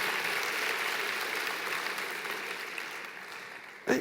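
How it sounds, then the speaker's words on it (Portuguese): Sustained applause from a church congregation during a sermon, a dense, steady wash of clapping that fades slightly before a short louder burst at the end. "Isso, pode aplaudir"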